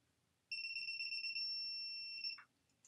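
A Unior 266B electronic torque wrench with a 1/2-inch drive emits one steady, high electronic beep for about two seconds when it reaches target torque, clear and alone in a quiet room.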